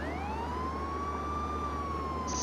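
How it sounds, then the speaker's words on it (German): A police car siren wails in the Contraband Police video game, one long rising and falling tone that stays steady and clear over a low engine hum, with no talking. "Mach die Sirene an, aber irgendwie, wie kann ich die Sirene anmachen?"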